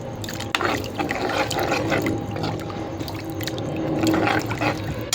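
Water splashes and trickles steadily into a pot of curry masala, a continuous close pouring sound with small bubbling spikes.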